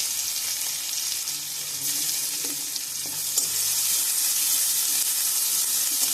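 Garlic and chilies frying in hot mustard oil, a loud, dense, steady crackling sizzle up close with occasional stirring knocks, continuous for the whole stretch and free of speech.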